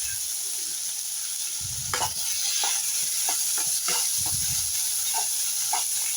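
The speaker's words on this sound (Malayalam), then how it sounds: "ആ പാനിൽ തന്നെ കുറച്ചുകൂടി എണ്ണ ഒഴിച്ച് നമുക്ക് ആ സവാളയും തക്കാളിയും ഇഞ്ചിയും വെളുത്തുള്ളിയും ഒക്കെ നന്നായിട്ടൊന്ന് വഴറ്റി കൊടുക്കുക." Onion, tomato, ginger and garlic sautéing in oil in a pan, a continuous hiss broken by several clattering stirs and scrapes, close and without voices.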